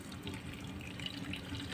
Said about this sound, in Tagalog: bubuhos na natin ang mainit na tubig